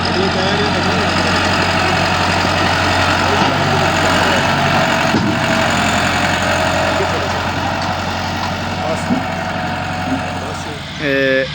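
A tractor engine idles and runs steadily in a potato field during harvest, a loud continuous rumble that persists throughout with little variation.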